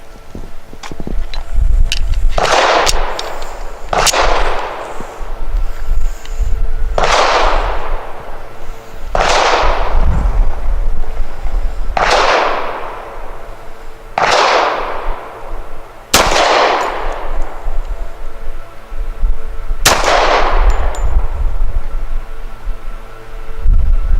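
Eight sharp shots ring out from a Rock Island 1911 pistol firing Winchester Defender 230-grain bonded jacketed hollow points, loud cracks spaced roughly two to three seconds apart over a low background hum.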